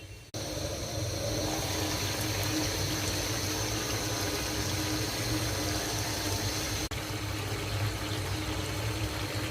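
Sand goby fish curry with radish, potato and tomato cooks in oil and a little water in a covered pan, giving a steady, close sizzling hiss with a faint hum throughout and a brief break near the start.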